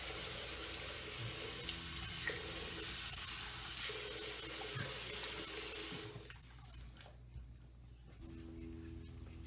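Tap water runs steadily into a sink while someone rinses off thick drag makeup, a continuous close hiss and splash that drops away briefly near the end, then resumes more softly.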